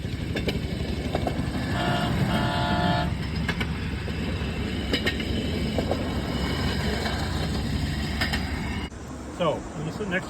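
A rail track inspection car rolls past during a train parade, its steady rumble filling the scene with brief horn toots and a high mechanical whine, while voices talk nearby.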